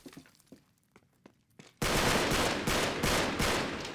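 Gunfire in the video game Uncharted 3: a few scattered faint shots, then a loud sustained burst of rapid automatic fire that keeps pounding in a fast rhythm to the end.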